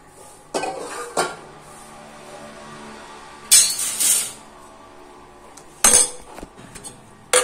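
A metal spoon stirring a coconut-milk stew in a pot, with a few sharp clinks and scrapes against the rim spaced apart amid quiet kitchen background.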